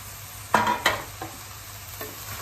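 Pasta and leeks stirred in a hot pan: a few distinct scraping, clattering strokes with a soft sizzle beneath, close and fairly loud, then quieter movements.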